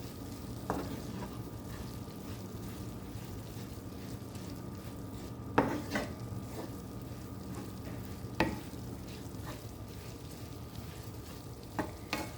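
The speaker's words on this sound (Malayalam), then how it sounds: "അപ്പോൾ അതുവരെ നമുക്കൊന്ന് മിക്സ് ചെയ്തെടുക്കാം" Flattened rice (aval) being stirred in a pan for a sweet Kerala snack, with a spoon scraping and turning it in a steady low bed of soft cooking noise and a few sharper knocks; close and fairly quiet, with no talking.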